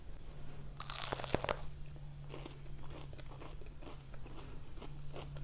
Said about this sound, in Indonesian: bisa nggak makan pare mentahnya tanpa dikasih apa-apa?